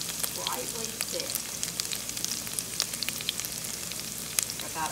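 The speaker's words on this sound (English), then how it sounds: "And then we let it simmer till it's slightly thick." Stock simmering in a pan sends up a steady, dense bubbling sizzle with scattered sharp pops and crackles, close and continuous, with no talking.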